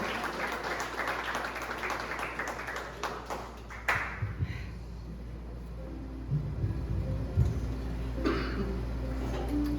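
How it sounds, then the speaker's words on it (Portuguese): A church congregation claps for a few seconds, the applause fading into a quieter room with scattered taps, coughs and murmurs. "Aplaude Jesus, queridinho."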